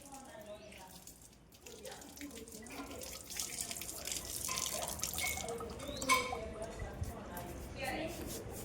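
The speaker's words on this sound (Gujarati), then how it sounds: "નળ બંધ કર" A household tap runs in a steady, moderately close stream for several seconds, with people talking over it.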